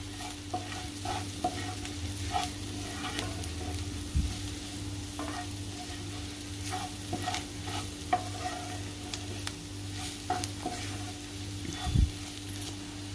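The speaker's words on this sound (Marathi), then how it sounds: "आता आपण हळद घालूया त्यामध्ये, अर्धा चम्मच हळद आहे। तेलावरती परतून घेते चांगली।" Half a spoon of turmeric sautés in hot oil for a methi batata potato and fenugreek dish, with a steady close sizzle of frying and intermittent spoon stirring and scraping against the pan.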